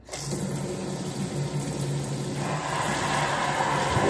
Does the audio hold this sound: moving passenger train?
no